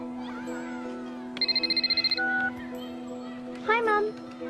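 A telephone rings in a quick, trilling electronic burst of about a dozen rapid pulses, loud and close, among talk, a voice and playful squeals.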